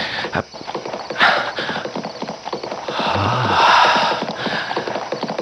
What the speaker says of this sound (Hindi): अरे ये घोड़े के टापों की आवाज